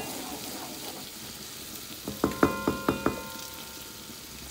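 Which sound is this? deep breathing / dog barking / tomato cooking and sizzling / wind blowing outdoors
tomato cooking and sizzling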